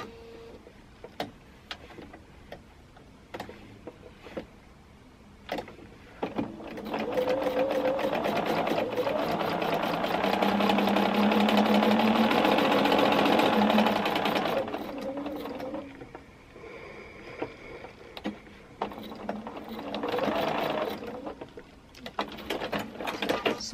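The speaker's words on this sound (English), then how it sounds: "I'm just going to stitch until I get to that stitching line." A sewing machine stitching quilt pieces runs in a loud, steady, fast mechanical whir for several seconds, then slows and stops, with scattered clicks and handling taps before and after, close up.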